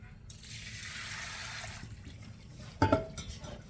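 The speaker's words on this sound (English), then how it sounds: "Empty the water out of the" Water whooshes out of a yogurt container in a brief gush, then a clatter and a couple of small knocks follow close by.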